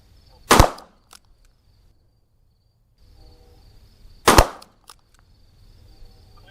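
Two sharp, loud gunshots from a Smith & Wesson K22 Masterpiece five-screw revolver, spaced a few seconds apart at an outdoor range, each a crisp crack with a short decay and quiet between.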